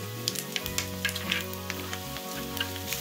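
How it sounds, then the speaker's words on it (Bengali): Fennel seeds and panch phoron crackle in hot oil, a bright close sizzle with scattered sharp pops, over a low steady hum from a kitchen appliance, with no talking. "এখন এর মধ্যে মৌরি দিয়ে দেওয়া হলো"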